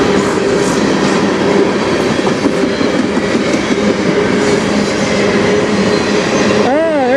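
Loud rumbling and rhythmic clacking of CN freight train cars rolling past close by, continuous throughout, ending with a rising and falling horn-like tone.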